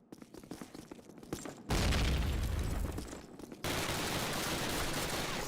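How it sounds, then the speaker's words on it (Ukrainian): Heavy blasts and rapid gunfire in a Call of Duty battle at an Alpine chateau, grenades bursting among sustained loud, dense explosions that fill the clip after a short lead-in of lighter shots. "Гранати! Гранати!"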